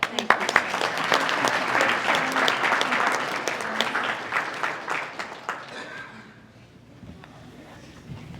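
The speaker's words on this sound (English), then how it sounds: "One more round of applause." Another round of audience applause at a Lawton city council meeting, full clapping for about six seconds that then fades out into quiet room noise.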